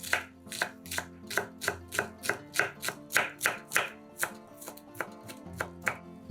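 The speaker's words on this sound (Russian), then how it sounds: "Нарезаем зеленый лук." Green onions are chopped quickly with a knife on a board, a close, crisp run of around sixteen evenly spaced strikes in a steady rhythm with no voices.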